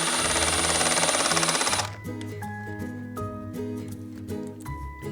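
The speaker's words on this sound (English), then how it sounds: "take your 1-inch screws and install your front" A power drill drives one-inch screws into a drawer front in a loud, rattling burst of about two seconds, then stops while quiet background music continues.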